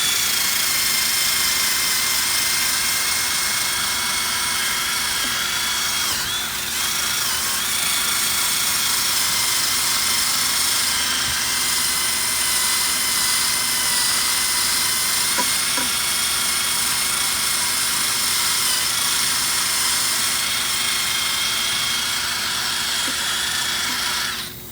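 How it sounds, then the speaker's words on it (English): Wire wheel spinning on a drill against an 18-inch 2008 Chrysler 300C rim, a steady loud high-pitched whirring scrape that holds for the whole stretch with slight shifts in pitch as it moves around. "It's the same style wire wheel as my air-powered one"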